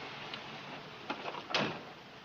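A door closes somewhere in a room: a soft scrape, then a firmer thud as it shuts, faint and close, with no talking over it.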